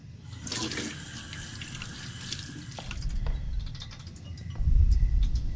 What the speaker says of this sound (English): I heard like a faucet turn on right now.